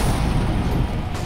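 Dense, continuous game gunfire from Counter-Strike: Global Offensive, a loud sustained barrage of booming shots with no clear gaps, running through the whole moment without any talk.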